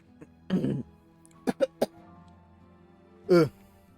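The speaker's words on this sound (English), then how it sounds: "Ugh, coughing." Coughing and throat clearing from a single nearby person: one rough cough, then three short sharp coughs in quick succession, then a final throat-clearing cough, with quiet gaps between.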